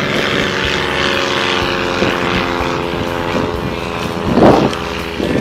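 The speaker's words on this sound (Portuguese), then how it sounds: "Aí, Jorge, aqui tem avião também." A propeller aircraft drones overhead during an outdoor running workout in rural Uberaba, a loud, steady engine rumble with a slight swell near the end, mixed with ambient outdoor noise.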